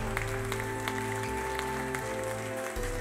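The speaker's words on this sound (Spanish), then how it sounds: "Dale un aplauso al Señor" A church congregation claps steadily during a sermon, with scattered sharp claps over a low background hum, moderately loud and continuous throughout.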